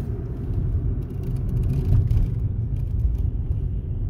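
Inside a moving car, a steady low engine drone and road rumble hold at an even level throughout with no talk.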